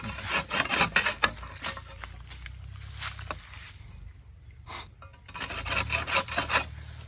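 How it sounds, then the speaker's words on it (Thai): Rhythmic rasping strokes of a hand saw cutting through a rambutan tree branch, pausing briefly midway before resuming, close by. "เลื่อยออกไปหมดนะครับ"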